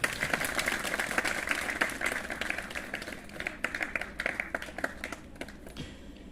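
A church congregation at a Nepali Christian wedding service claps together in steady, dense applause. The clapping is fairly faint and distant and continues for several seconds.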